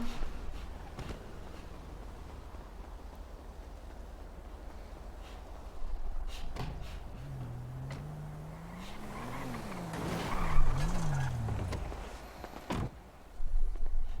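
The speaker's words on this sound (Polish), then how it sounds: "ja mam samochód za tym murkiem, to podjadę od razu teraz" A car engine hums at a distance, then rises and swells as the vehicle drives up from behind a low wall, with a few knocks and a louder burst near the end.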